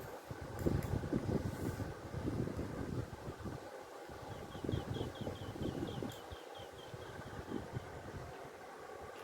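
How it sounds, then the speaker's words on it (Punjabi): Steady wind roars and buffets outdoors, a broad rumbling rush that swells and dips throughout, with faint high chirps in the middle. "ਬਾਹਰ ਹਵਾ ਚੱਲਦੀ ਪਈ"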